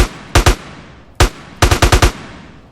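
Gunfire in the GTA San Andreas zombie mod video game: loud close bursts of shots, a quick pair, a single shot, then a rapid run of five, with no talking.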